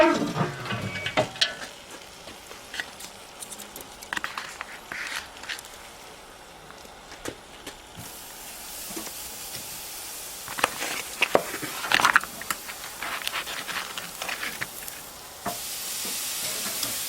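Pork spare ribs sizzling over a charcoal grill, a steady hiss and crackle with scattered pops and sharp clicks, growing denser toward the end, heard up close with no talk.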